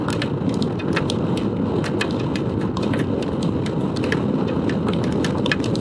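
A rain shower drums on a rider and a 2015 Honda PCX150 scooter on the move, a loud, continuous low rumble of wind and road noise peppered with sharp, scattered droplet taps.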